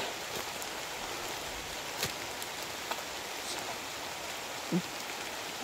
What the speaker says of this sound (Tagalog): Umuulan na po mga kabis na.